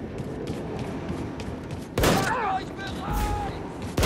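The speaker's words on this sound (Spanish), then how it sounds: "Por fin, güey, una escopeta" Shotgun blasts in Wolfenstein 2: The New Colossus, two or three loud close booms with a sharp crack, following busy game noise and a talking voice underneath.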